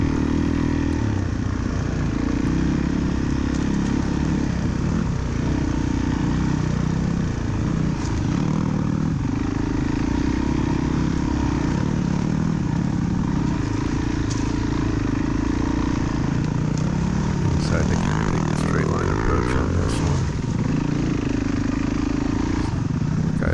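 A Suzuki DRZ dirt bike fitted with an M5B tire runs steadily through a muddy backwoods cross-country trail, its engine droning continuously and loudly with scraping and clatter mixed in and no clear breaks.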